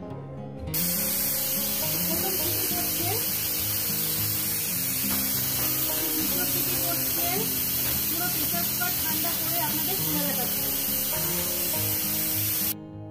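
A pressure cooker holding chicken curry lets off steam over a medium flame, giving a steady, loud hiss. The hiss starts abruptly and runs unbroken for about twelve seconds, with a thin high whistle inside it and some faint kitchen clatter underneath.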